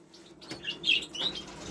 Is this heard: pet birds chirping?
yes